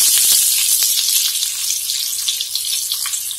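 Onions frying in hot oil with ginger and garlic for a Punjabi-style chicken gravy, a loud, dense, hissing sizzle heard up close and continuous throughout.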